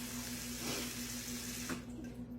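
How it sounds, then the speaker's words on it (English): Tap water runs into a pot of eggs, a soft, steady flow with a faint hum under it that cuts off near the end, no speech. "I'm going to put some water in it."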